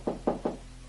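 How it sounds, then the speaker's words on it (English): Gentle knocking on a closed door at night: three soft, evenly spaced taps, close and distinct, then silence with a faint low hum underneath. "Gently, Hannibal taps on the door."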